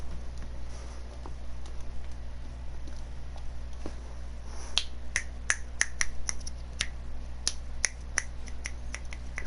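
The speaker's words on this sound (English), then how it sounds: "Snapping my fingers." Fingers snap repeatedly, sharp and close, in an irregular quickening series over a low steady background hum.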